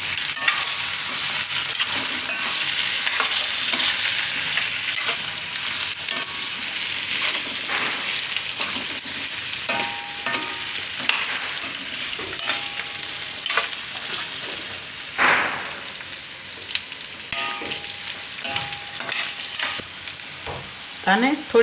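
Boiled potatoes fry in hot oil in a home kitchen while being stirred, a steady dense sizzle with scraping spoon strokes and occasional clinks throughout, close and fairly loud with no talk.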